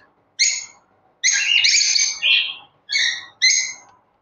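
Lovebird chicks in a breeding box give a series of clear, high chirps and squeaky calls, about five short bursts close by with quiet gaps between them.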